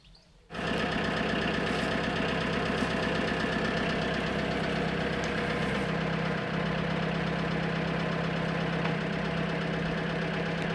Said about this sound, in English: Right, let's get the engines on.